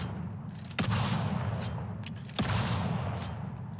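Two bursts of hip-fire gunfire in a shooter video game, each a sharp onset followed by a dense, continuous automatic rattle, loud and close with no talk.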